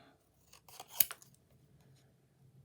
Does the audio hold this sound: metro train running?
no